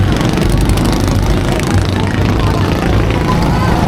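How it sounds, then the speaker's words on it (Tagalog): A loud, steady engine of a large motorboat drones close by throughout, rough and continuous, with voices faintly mixed in. "Dito sa malaking bangka na to."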